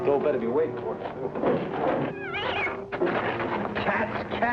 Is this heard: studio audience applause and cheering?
no